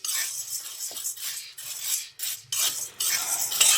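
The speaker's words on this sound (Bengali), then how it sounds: "সাবুদানাটা একটু শুকনো খোলায় ভালোভাবে নেড়ে নেব" Dry sago pearls are stirred in a hot, dry pan, making bright, rattling scrapes that come in bursts with short gaps, close and fairly loud, with no voices.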